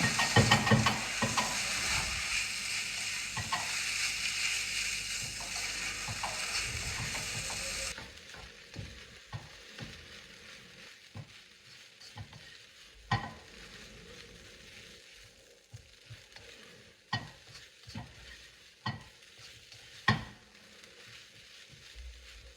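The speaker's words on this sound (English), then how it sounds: "Now, add in your 2 teaspoons of soy sauce. And mix it up together." Chicken fried rice stirred with soy sauce in a frying pan: loud steady sizzling for about eight seconds, then quieter frying broken by repeated sharp scrapes and clacks of the utensil against the pan.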